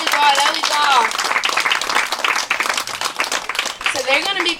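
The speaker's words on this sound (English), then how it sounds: "Let me give them a round of applause so they go get our courage." An audience claps and cheers as performers take the stage at the PAL 2022 event, a steady, loud wash of applause under an announcer's voice and shouts.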